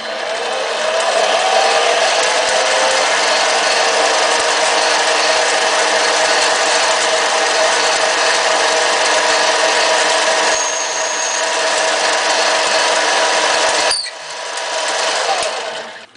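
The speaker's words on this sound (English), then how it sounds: "just about the center of that black mark is how deep I'm going to drill this hole" A power drill whirs loudly and steadily up close, drilling a hole in a fountain pen part, briefly dipping and cutting out near the end before spinning up again.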